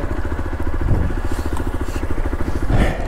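A motorcycle engine idles nearby on a mountain road in Ladakh near Hanle, a loud steady rhythmic thumping throb that swells briefly twice.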